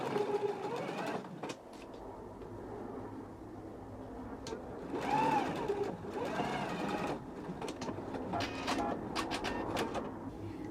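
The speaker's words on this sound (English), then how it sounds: "we're going to go to the machine and we're going to start stitching at the top" A sewing machine stitches pleats along broken lines on the front of a pair of shorts, a steady whirring run of needle strokes with small shifts and handling noises, close and moderately quiet.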